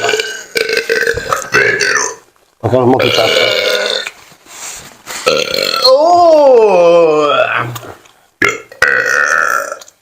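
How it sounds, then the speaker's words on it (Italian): Loud, long burps break out repeatedly, several of them drawn out and wavering, with short exclamations and chatter between them. "Ma puoi ruttare dal tuo lato"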